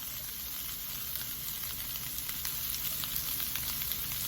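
Field Roast smoked apple sage sausage fries in a pan with a steady, dense sizzle that stays close and even throughout, without any talking.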